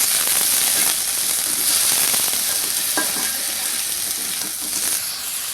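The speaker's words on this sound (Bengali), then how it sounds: "পেঁয়াজ, রসুন, মরিচ ভাজা হয়ে গেছে, লাল লাল হয়ে আসছে। এবারে দিয়ে দেবো কেটে রেখেছিলাম যে বেগুনগুলো।" Cut eggplant pieces hit hot oil in a pan of frying onion, garlic and chili, with a loud, steady sizzle and bubbling that runs throughout and some stirring clatter partway through.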